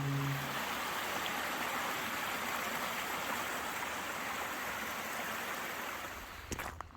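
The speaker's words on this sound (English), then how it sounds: "just listening to the cascading water as it falls" Small cascading waterfalls along a forest walking trail rush in a steady, broadband wash of falling water that continues without a break, close and fairly loud, with a brief knock or rustle near the very end.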